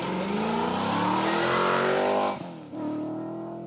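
An Audi A3 rally car drives a stage, its engine revving hard and climbing through the gears, then dropping sharply on a gearshift before pulling away again, loud and close with faint tyre noise.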